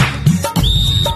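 A loud, clear whistle with a shrill tone that rises and then holds steady, short and alone.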